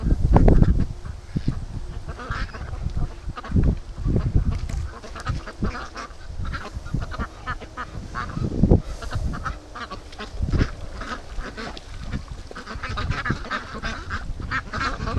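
A flock of free-range ducks returns across open ground, quacking and honking loudly and steadily up close, with a dense, overlapping chorus that continues throughout.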